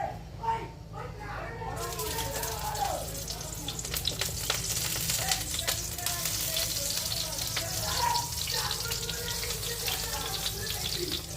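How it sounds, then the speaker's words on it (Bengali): Brinjal hits hot mustard oil in a pan, setting off a loud, sustained crackling sizzle that runs throughout, with a voice talking over it at the start. "এবার বেগুনটা ভাজার জন্য দিয়ে দিচ্ছি।"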